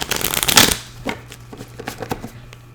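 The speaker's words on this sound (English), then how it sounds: "I haven't used this deck in a little while, so I'm going to shuffle" A deck of cards is riffle-shuffled up close, a quick burst of flapping followed by a few lighter taps and shuffles as it settles.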